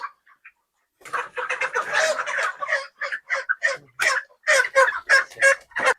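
Broiler chickens about 39 days old on a poultry farm make a dense, continuous chorus of clucking and squawking calls, close and loud, with no talk.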